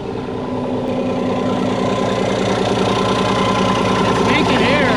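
Loud, steady engine rumble from a vehicle started after sitting for 16 years, running close by with a constant knocking, vibrating drone and an unchanging throttle.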